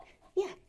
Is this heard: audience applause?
no